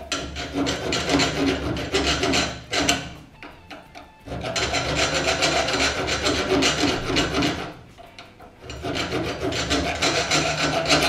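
Metal thread file drawn over screw threads, giving long, steady rasping scrapes close up, in two extended bouts split by a short pause with a faint click, with no talking.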